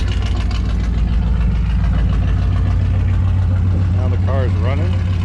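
A 1985 Chevrolet K5 Blazer engine idles with a deep, steady exhaust rumble, close and loud, with a voice briefly speaking over it toward the end.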